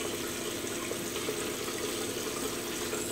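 Water runs steadily from a tap into a sink basin, a continuous close rushing with no breaks and no talk.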